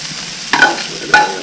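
Cabbage being stir-fried for teriyaki beef, a loud steady sizzle close up with two sharp bursts of louder frying as it is stirred in the pan.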